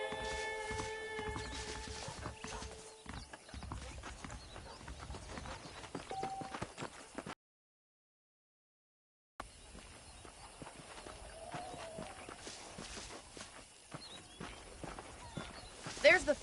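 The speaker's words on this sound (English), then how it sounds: "The horses are saddled up over here." Horse hooves clip-clop at a walking pace over a Red Dead Redemption game soundscape, with a brief silent gap midway before the ambience and steps resume.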